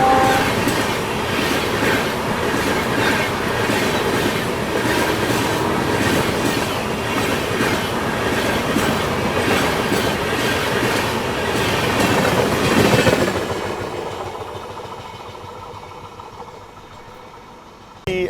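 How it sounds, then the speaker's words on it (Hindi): The Mumbai Rajdhani Express thunders past at close range, a loud rushing rumble with rhythmic clickety-clack of wheels over rail joints, then cuts off abruptly as the last coach clears, leaving quieter ambience. "आ रही है the king Mumbai Rajdhani express."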